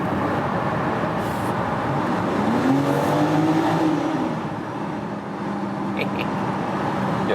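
Engine note of a BMW X4M Competition heard from inside the car while driving through a tunnel, a steady low rumble that swells as the engine revs up and then settles back under continuous road noise.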